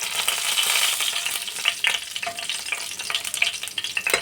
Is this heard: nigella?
yes